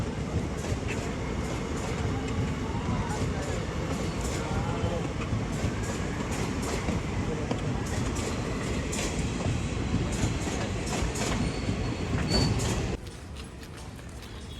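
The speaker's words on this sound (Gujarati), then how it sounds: "અત્યારે જો ટ્રેન છે આવેલી, લોકલ ટ્રેન જાય છે અત્યારે તો." A long local train rolls past a railway station at close range, a steady loud rumble and rattle of wagons that cuts off abruptly near the end, with a voice talking faintly under it.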